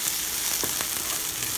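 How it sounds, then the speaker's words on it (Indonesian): Bumbu spice paste for soto sizzles and fries in a hot pan, a continuous close hiss with a few soft scraping stirs and small crackles standing out. "Masukkan bumbunya ya buat ditumis sampai mengeluarkan bau harumnya ya"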